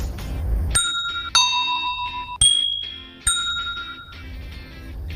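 Four bright rings from a bell sound effect, each struck separately and left to ring out, with clear metallic tones that fade between strikes.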